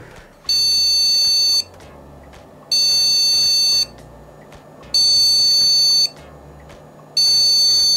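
A PC motherboard speaker with no RAM installed sounds four long, loud, evenly spaced beeps, each lasting about a second, over a faint background hum.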